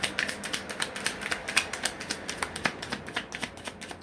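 Small cards shuffled and drawn, a quick close run of crisp flicking snaps in steady rhythm, fairly soft and with no voices.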